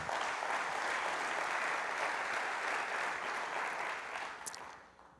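A church congregation applauds during a sermon, with loud, dense, sustained clapping that fades out near the end.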